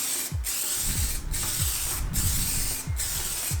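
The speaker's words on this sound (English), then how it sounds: "So give the can a good spray for at least a minute" An aerosol can of clear coat for restoring headlights, shaken hard so it gives a steady close hiss broken by four rhythmic rattling strokes.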